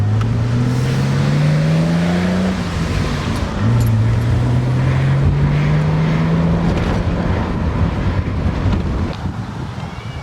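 A BMW E30 barn-find car drives off, its engine revving up through a gear, easing briefly, then climbing again, loud and close with wind rushing past the microphone and no talk.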